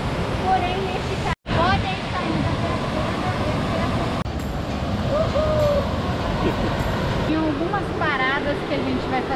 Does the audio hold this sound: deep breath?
no